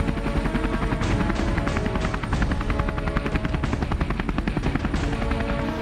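A Sikorsky S-70B navy helicopter thunders loud and close, its rotor blades chopping in a fast, steady rhythm with dense engine roar throughout.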